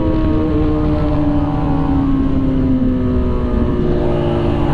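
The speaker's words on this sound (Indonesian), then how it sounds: "soalnya knalpot kita bacot sih" A Kawasaki Ninja with a loud aftermarket exhaust drones steadily and close during a drag test, its pitch sliding slightly down and back up over a few seconds.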